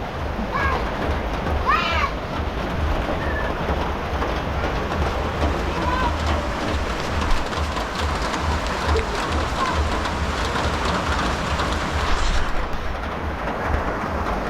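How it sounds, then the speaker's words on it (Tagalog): Heavy rain pours down during an afternoon bike ride, a dense, steady hiss and roar filling the whole stretch, with faint voices briefly audible beneath it. "Nabutan pa ng ulan."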